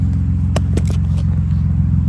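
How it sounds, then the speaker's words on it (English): An Infiniti G35 fitted with a new exhaust idles with a deep, steady rumble, close by, as a few sharp crackles and brief blips break through without any big sustained climb in revs. "Let's give it a little baby revs."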